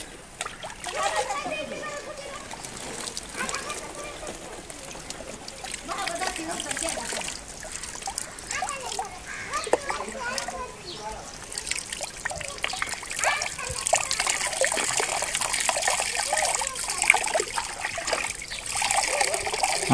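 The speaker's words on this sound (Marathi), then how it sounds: "आता आपण बाटलीत पाणी भरतोय" Water is poured and splashes into a plastic bottle with holes in it, an irregular trickling and splattering that runs under ongoing talk and children's voices, growing busier toward the end.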